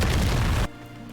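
A Confringo fire spell detonates in Hogwarts Legacy: a loud, close, booming blast that fills the first half-second, then cuts off sharply to quiet game ambience.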